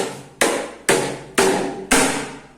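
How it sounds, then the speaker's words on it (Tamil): Five sharp, evenly spaced knife strikes chop onions on a cutting board while preparing a Tamil vegetarian curry, each chop a hard thud with a short decaying tail, close and loud with no talk. "இவ்வளவு வெங்காயத்தை நம்ம இன்னும் பண்றத கட் பண்ண போறோம் கிட்டத்தட்ட ஒரு டூ மினிட்ஸ்ல மொத்த வெங்காயத்தை கட் பண்ணிடுவோம்"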